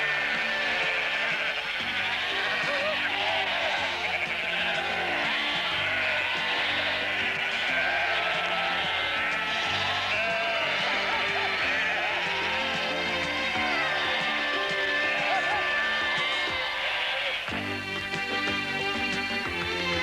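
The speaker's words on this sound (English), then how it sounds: "farmers come to round them up and drive them into sorting pens. At this time, about 2 million sheep are being sorted" Icelandic sheep crowd the autumn sorting pens, a dense chorus of overlapping bleats and baas from many animals calling continuously, near and far together, with a brief shift in the noise near the end.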